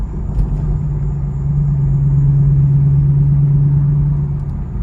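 A straight-piped 500 hp Camaro SS rumbles loudly in traffic, its deep exhaust drone swelling into a steady low growl as it rolls along, heard close from inside the car.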